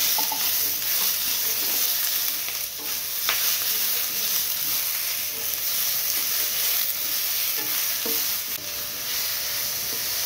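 Tomatoes fry with masala in a pan, a continuous close sizzle with occasional stirring scrapes running steadily throughout.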